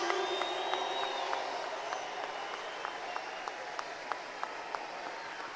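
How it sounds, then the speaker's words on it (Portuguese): A large crowd at a street political rally applauds, producing a steady wash of distant clapping with regular sharper claps standing out at an even beat. "Eu acho que eles merecem mais aplausos, mais forte, mais forte."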